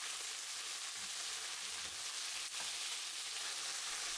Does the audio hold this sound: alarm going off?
no